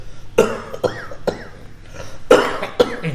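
A series of sharp, close coughs, about six in irregular bursts, some followed by brief throat sounds.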